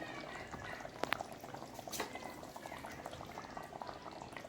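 A pot of seer fish curry bubbles and simmers steadily, soft popping and gurgling throughout, with a few sharper clinks near the start.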